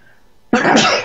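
A single sudden sneeze-like burst, loud and close, breaking out of near silence about halfway through and trailing off over roughly half a second.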